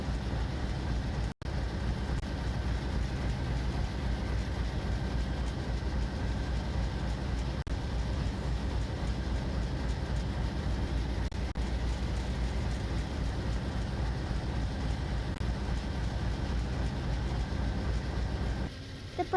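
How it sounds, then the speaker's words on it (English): A passenger train locomotive in a train simulator game rolls along with a steady, low rumbling thrum and constant track noise, a continuous drone with no breaks, heard from the cab. "I can feel the subtle thrum of the locomotive through my virtual cab floor"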